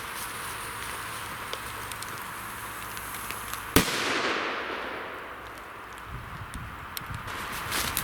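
A single Kometa PP1 firecracker bursts with one sharp, loud crack, then fades into a short rustling decay over a steady outdoor background hiss.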